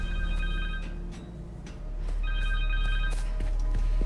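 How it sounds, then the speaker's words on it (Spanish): A phone rings in the Spider-Man 2 video game, Connors' phone, sounding in two bursts of bright repeated trills over a steady low game background, with a brief gap between them. "El teléfono de Connors."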